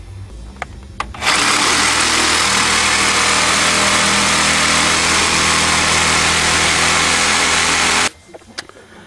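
A power cutting tool grinds steadily through a leaf spring bolt on a vehicle frame, a loud, close, continuous high whine for about seven seconds, starting and stopping abruptly.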